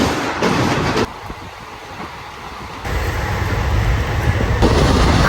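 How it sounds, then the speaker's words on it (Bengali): Rumble of a long-distance passenger train running on its rails, a steady broadband roar with wind buffeting, dipping quieter for a couple of seconds then swelling louder again, close and continuous with no voices. "এই ট্রেন দিয়ে জার্নি করতেছি কমসে কম 1000 কিলোমিটার"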